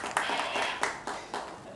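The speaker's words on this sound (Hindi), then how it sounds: "बहुत खूब, तालियां हो जाए" A small club audience claps after a Hindi poetry recitation, a modest burst of hand claps with a few sharper individual claps standing out, fairly close and steady for a couple of seconds.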